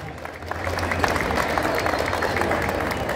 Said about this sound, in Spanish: ¡Fuertes los aplausos!